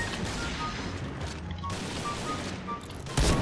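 Gunfire in the online shooter Point Blank, a steady rattle of shots under a busy game soundscape, with a sharper, louder burst near the end.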